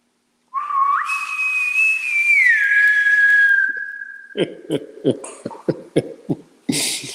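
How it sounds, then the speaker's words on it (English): A person whistles a sustained, wavering tone that slides up then gradually down, followed by a series of short breathy puffs and bursts. "I'll give you some whistling."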